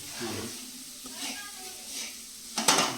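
Everest masala heats in a pan for a fish curry, giving a steady, gentle sizzle with a stirring scrape near the end, while a person talks over it.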